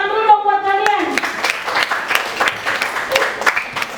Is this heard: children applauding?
yes